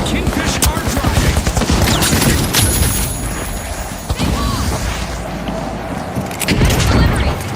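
Frag grenade explosions and rapid gunfire in the video game The Finals: loud, dense bursts of shots and booms run almost continuously, with a heavier blast near the start and a renewed flurry at the end.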